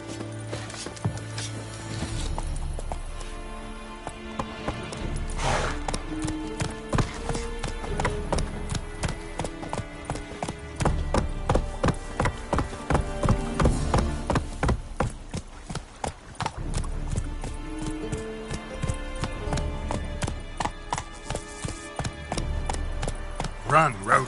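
Roach the horse galloping in The Witcher 3, rapid rhythmic hoofbeats on ground with a brief whinny, close and loud over a continuous game soundtrack, with a voice urging the horse on.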